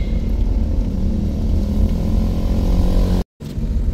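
A motorcycle speeds past on a road through Jim Corbett National Park, its engine a loud, steady roar that fills the whole stretch with a brief cutout near the end.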